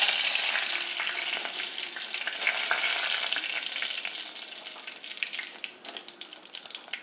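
Curry leaves sizzle in hot oil in a pan, a loud, bright, crackling hiss that starts strong and slowly eases off, with no voices over it.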